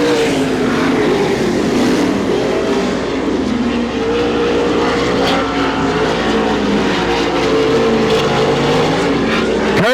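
Sprint cars race around Butler Motor Speedway, engines roaring loud and continuous with rising and falling pitch as the field passes close by, with no talk over them.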